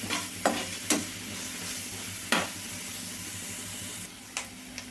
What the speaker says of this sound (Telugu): ఈ మూడిటిని లైట్గా 1 నిమిషం పాటు వేయించుకోవాలండి.